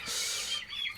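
High, thin chirping of chicks on a poultry farm, a dense continuous peeping that is fairly faint, with one brighter call standing out near the end.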